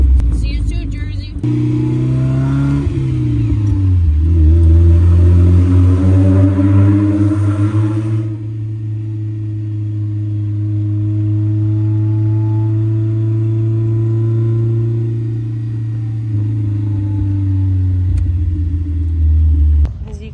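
A car cruising on the road toward a Formula Drift event in New Jersey. Its engine drones steadily and close up, with a shift in pitch early on, then a long, even hum with little change throughout.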